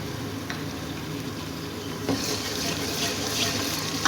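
Garlic ginger paste frying with golden onions in a pot, a steady watery sizzle that grows louder midway, with a few light stirring clicks and no speech.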